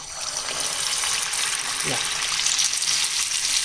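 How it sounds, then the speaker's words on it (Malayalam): A ladleful of mutta appam egg batter frying in hot oil over a high flame, giving a loud, continuous bubbling sizzle close by with no talking. "നമുക്കിതിലേക്ക് ഒരു തവി മാവ് കോരി ഒഴിക്കാം. എണ്ണയുടെ നടുക്കേക്ക് വേണം ഒഴിച്ചു കൊടുക്കാൻ."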